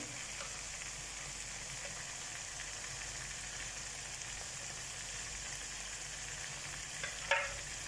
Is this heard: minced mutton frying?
yes